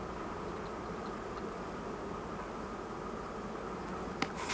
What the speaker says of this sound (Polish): tu te złe pszczoły pięknie śmigają i też pyłek z nawłoci noszą